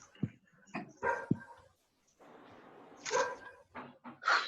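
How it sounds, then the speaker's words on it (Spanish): Several dogs barking and yipping in the background, sharp intermittent barks with a whimper, moderately distant, no talk over them. "¿qué onda con los perros del fondo?"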